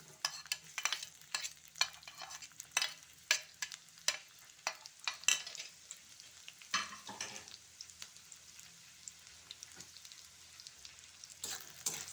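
Chopped onion frying in hot oil in a kadai is stirred with a utensil, giving sharp, irregular scraping knocks over a soft, steady sizzle that quiets slightly later on, close by with no talking.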